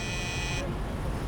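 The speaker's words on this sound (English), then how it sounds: "It's a good buzzer sound." In the video game Beat Cop, an apartment door buzzer gives a flat electric drone that holds steadily and then cuts off abruptly partway through, set over a low street-noise background.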